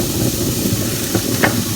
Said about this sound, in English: You can hear that sizzling noise.